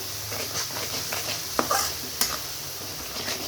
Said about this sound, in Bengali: এবার আমি গুঁড়ো মশলাটা দিয়ে দেবো দিয়ে একটু কিন্তু ভালোভাবে একটু কষিয়ে নিব